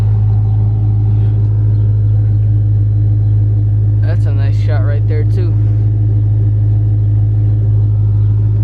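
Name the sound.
Dodge Charger R/T 5.7 engine idling with 6.1 SRT manifold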